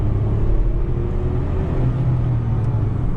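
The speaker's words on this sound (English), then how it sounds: "Going for a quick acceleration again in second gear." Tata Altroz Racer with a 3-cylinder engine accelerating in second gear, heard from inside as a steady, loud engine rumble and road noise with a rising drone and no talk.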